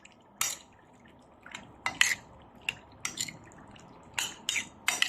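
Spoon clinks and scrapes against a bowl while chicken marinade with soy sauce and Knorr seasoning sauce is stirred, coming as irregular sharp taps close up in a quiet room.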